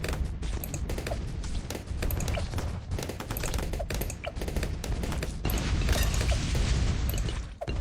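Mortar firing in the tower defence game Bloons TD 6 is heard as a steady, loud barrage of repeated booming shots and clanking mechanical impacts, layered with other busy game effects throughout.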